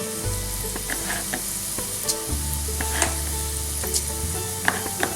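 Coriander seeds frying in shimmering hot oil for a curry, a bright continuous sizzle with scattered pops and crackles and a low hum underneath, close and even, no voices.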